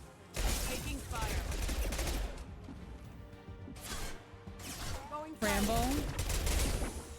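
Gunfire bursts from a space video game, dense and continuous through most of the stretch, with loud volleys returning after a short lull, mixed with game effects and voices talking over it.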